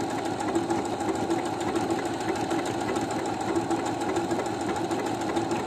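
A new sewing machine stitching a wide decorative pattern, running at a fast, even mechanical chatter without pause, close and steady.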